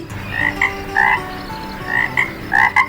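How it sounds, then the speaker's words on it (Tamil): A frog croaks near a garden pond, repeated loud, close croaks in short paired bursts at a steady rhythm, with no voices over them. "ஐயோ அம்மா, தவளை."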